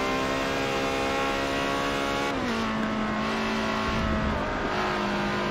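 A car engine in a racing video game holds a steady, high-revving drone. Its pitch drops abruptly partway through, as on a gear change, then the strained engine tone climbs again, loud and close, with no talking.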